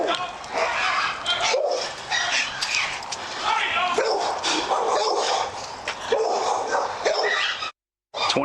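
Dogs bark and snarl continuously during a violent attack on a person in a backyard, harsh and loud throughout with overlapping noise, then a sudden brief cut to silence near the end.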